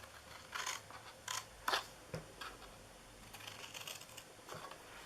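Paper being cut with scissors while making a birthday treat box, a few short crisp snips spaced out over quiet room tone, close and fairly soft.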